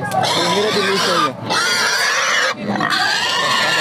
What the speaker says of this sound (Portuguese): Tá pesando quanto esses porcos, Marconi?